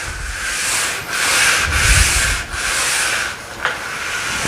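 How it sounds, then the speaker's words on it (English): A grout brush scrubs grout lines alongside a Hoover steam cleaner, loud close rasping strokes in steady back-and-forth bursts with brief pauses between them. "you can scrub with your grout brush"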